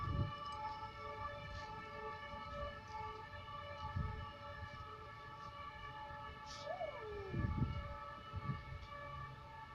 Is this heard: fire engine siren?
yes